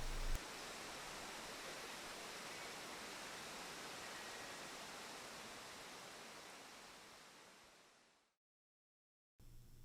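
Curtain plunge waterfall in Hamilton, a broad, steady roar of falling water that fades out, drops to silence, then returns briefly.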